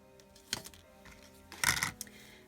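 Scissors snip through a length of May Arts ribbon during card making, two quiet, close crunching cuts about a second apart over a soft background.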